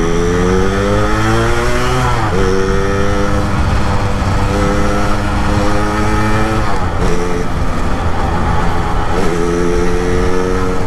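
A Yamaha RX King motorcycle fitted with an Accossato clutch and a non-original carburetor revs hard and close, its loud buzzing engine pitch climbing repeatedly, dropping back and climbing again without a break.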